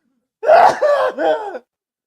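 A person lets out a loud, close sneeze in a gasping, multi-part burst with a rising intake followed by a throaty, voiced release, and no words.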